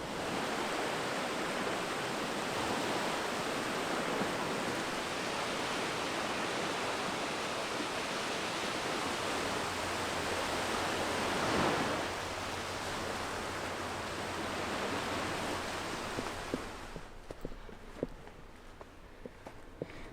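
Surf washing steadily onto the shore of a Great Lake among Indiana dunes, a continuous broadband wash with one stronger swell, ending with a few quieter nearby knocks or footsteps.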